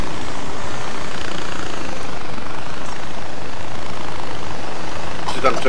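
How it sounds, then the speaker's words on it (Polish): A helicopter in the video game Far Cry 4 drones loudly and continuously in a foggy area, a dense unbroken engine and rotor roar that fills the scene. "Hałasuje ten helikopterek, to trochę będę krzyczał może."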